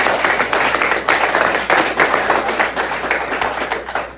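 Audience applause at an outdoor county Republican Party picnic, steady dense clapping from a crowd lasting throughout, fairly loud and close with no voices.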